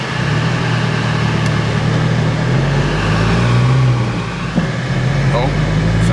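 Cheap Seat Leon Cupra accelerating in third gear, heard from inside the cabin as a loud steady engine drone that rises slightly in pitch midway.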